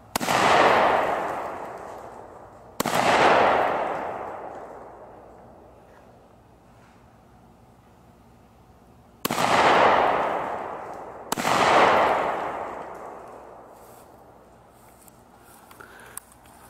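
Fireworks launched at a Thanksgiving gathering give four sharp, loud bangs, each trailing into a long crackling, fading decay, with the pairs spaced a few seconds apart and no talk between them.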